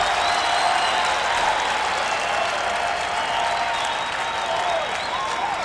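A crowd at a 1987 Syracuse versus Johns Hopkins lacrosse game roars and cheers in a dense, loud, unbroken wash of noise with whistles and clapping mixed in, easing slightly near the end.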